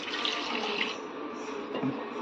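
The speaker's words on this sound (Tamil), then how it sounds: "இப்போ பாலை ஊற்றிக்கிடுவோம்." Milk poured into a container for mango rasamalai, a gentle continuous liquid stream that is close and moderately quiet, easing off near the end.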